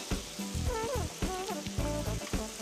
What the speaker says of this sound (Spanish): vamos a poner el ajo, seguimos con el sofrito, ponemos los pimientos morrones